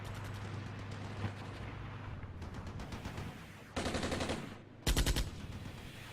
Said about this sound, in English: We've got the mortars falling over there